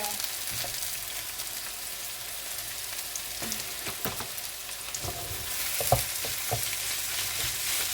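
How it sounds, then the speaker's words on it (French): Minced meat fries in a pan for a broccoli gratin, giving a bright steady sizzle punctuated by scattered stirring knocks and one louder clatter near the end. "Maintenant, on va mettre notre viande hachée."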